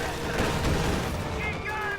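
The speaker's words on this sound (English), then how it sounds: "Autocannon firing at those clubbed grenadiers" Autocannon bursts in a World War II strategy video game battle, a dense, continuous rattle of rapid shots with booming impacts over about two seconds, mixed with game sound effects and some voice-like activity.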